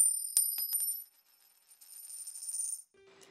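Coins drop and jingle with bright metallic ringing, a few quick clinks followed by a shimmering rattle of change that fades out, close and fairly quiet.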